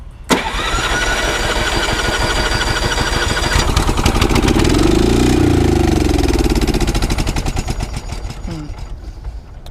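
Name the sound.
Honda riding mower engine running after adding gas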